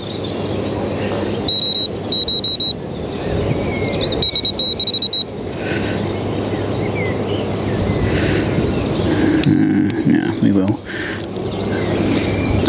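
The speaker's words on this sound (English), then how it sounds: "Listen to me set my alarm up like this." A carp-fishing bite alarm at a lake gives rapid bursts of high electronic beeps as it is set, with rustling handling noises and background ambience following.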